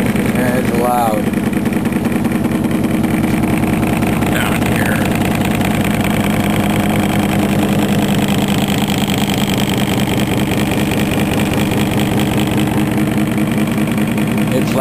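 A magnet motor flywheel generator running loudly with closely spaced interacting magnets, a steady rapid mechanical thrumming and rattling throughout, close and continuous, with a brief squeal near the start.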